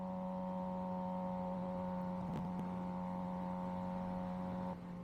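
A motorcycle fitted with a CS Racing exhaust runs at a steady, even idle. The drone is humming and close, with a couple of faint ticks partway through and no clear pops.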